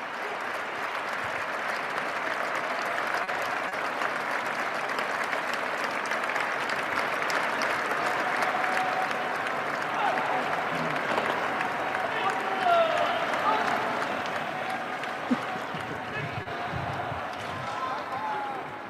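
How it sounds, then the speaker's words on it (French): A large crowd in St. Peter's Square cheers and applauds continuously for the Pope's Easter Urbi et Orbi blessing, a dense wash of clapping and shouting that goes on without a break. "les cris de joie de la foule, les cris d'encouragement également"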